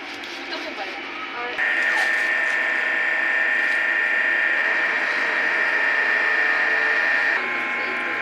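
A DTF printer runs a print-head cleaning cycle, giving a steady mechanical whir with a sustained high tone. Faint ratcheting and clicking from the mechanism come in and out over the running hum, which stays close and moderately loud throughout.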